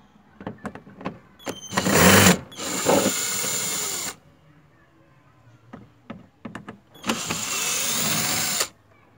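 A power screwdriver whirs in two sustained bursts, loosening screws on a Fiat Tempra car door panel, with clicks and handling knocks in between and quiet gaps.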